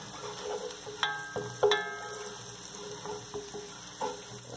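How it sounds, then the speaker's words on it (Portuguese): Garlic sizzling in a pan gives a soft, continuous frying crackle, punctuated by several sharper clinks and scrapes of stirring utensils against the pan, moderately close and fairly quiet. "Vamos dar uma pequena corzinha aqui no alho, né?"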